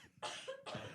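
Two harsh, breathy coughs close to the microphone in a podcast room, the second following shortly after the first, with no talking.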